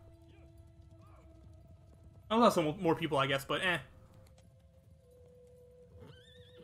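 Horse neighs and whinnies from the video game Shadow of the Colossus, a loud burst of about a second and a half with a faint voice talking before and after over a quiet ambient hum.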